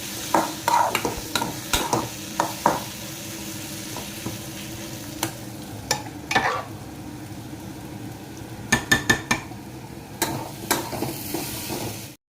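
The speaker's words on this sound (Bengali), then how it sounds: "এখানে দেখো কিছুটা জিরে আর শুকনো লঙ্কা ভাজছি" Cumin seeds and dried red chillies fry in a pan for ghugni, a gentle constant sizzle broken by sharp scraping stir strokes, some in quick clusters, close by with no talk.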